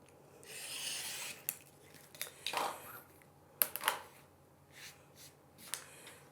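Patchwork quilt block being trimmed to size with a cutter, giving a sustained soft scraping cut followed by scattered light clicks and handling taps, close and fairly quiet with no speech.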